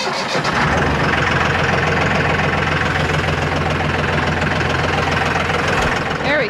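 Tractor engine on a vegetable farm cranks briefly, then settles into a steady, loud diesel idle that runs nearly to the end.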